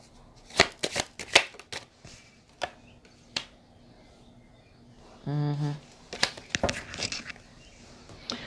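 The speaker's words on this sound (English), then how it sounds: "Let me pull a card on this Death card in reverse." Tarot cards riffled and shuffled by hand, a quick burst of papery flicks followed by a soft card pull, close and fairly quiet, with brief talk from one voice.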